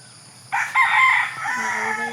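Rooster crowing on a small farm among chickens, one loud near crow bursting in after a quiet start and trailing off into clucking.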